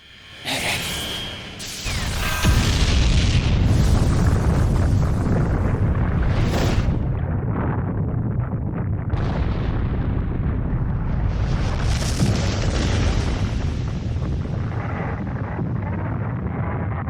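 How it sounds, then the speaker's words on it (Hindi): A huge explosion in the Attack on Titan anime, with a rising whoosh that bursts into a loud sustained roaring rumble and a few swelling surges, dense and heavy with no voices. "एक भयंकर धमाका हुआ।"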